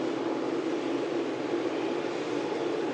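A 43-year-old Cessna Skyhawk light aircraft drones steadily and at moderate loudness throughout, a broad continuous engine roar with no break and no voices.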